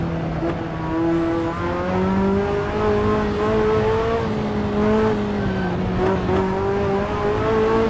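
A Ferrari F40 accelerates hard through a right-hand corner on the Transfagarasan Highway. Its engine drone is loud and close, with pitch rising and dipping slightly as the throttle is held on through the bend.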